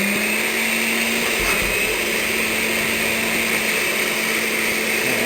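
A blender whirs steadily as it purées strained green chilies for a pasta sauce, a loud, constant motor drone running throughout with no pause.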